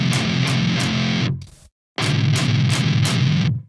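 Heavy distorted metalcore guitar tone run through an Archetype Gojira pitch shifter with all other effects off, played as loud, thick chugging riffs with sharp accented hits, broken by a brief silent gap before resuming.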